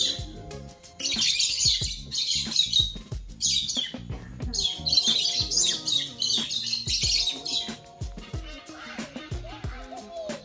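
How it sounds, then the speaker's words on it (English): Lively calls of a macaw and other birds, chirps and squawks, overlapping in bursts, fairly close and loud, with a quieter stretch near the end. "there's so many birds"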